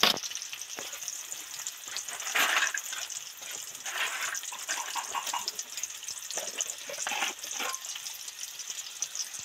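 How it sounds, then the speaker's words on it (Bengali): Onion slices deep frying in hot oil for a papad curry, a steady close sizzle and bubbling with brief louder bursts of spitting, no voices. "পেঁয়াজটা একটু ডিপ ফ্রাই করে ভেজে নেব তুলে নেব"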